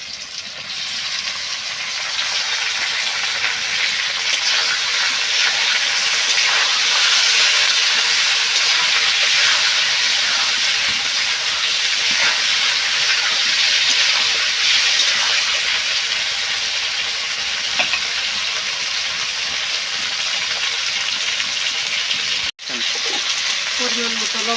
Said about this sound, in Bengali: মাংসটা একটু ভেজে নেব।